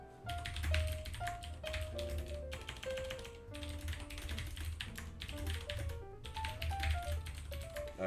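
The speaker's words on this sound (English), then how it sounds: "sorry for a bit of typing." Rapid clicks of a computer keyboard being typed on, quick bursts of key presses with short pauses, moderately close but quiet under a steady music track, with no voices.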